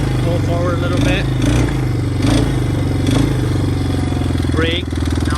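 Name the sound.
ATV engine pulling forward on farm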